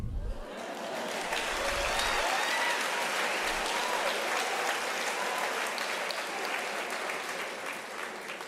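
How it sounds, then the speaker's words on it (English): A graduation ceremony audience at UNISA bursts into sustained applause. Many hands clap densely, swell quickly and hold steady for several seconds, with a faint crowd murmur and no clear speech. "you clapped hands before I finished"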